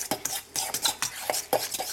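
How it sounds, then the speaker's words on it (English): A spoon mixes egg yolks from seven eggs with mayonnaise in a bowl for deviled eggs, making quick rhythmic scraping and tapping strokes, close and fairly loud. "Start mixing it."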